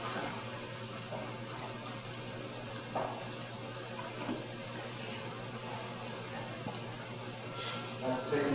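Water runs steadily during a demonstration at a conference session, a continuous broadband rush that stays at an even level throughout.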